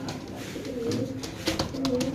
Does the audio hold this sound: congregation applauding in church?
no